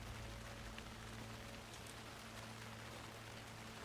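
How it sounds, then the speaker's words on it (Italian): Steady, heavy rain pours down continuously in the video game Alan Wake II, a dense hiss with a low constant hum beneath it. "Adesso piove parecchio."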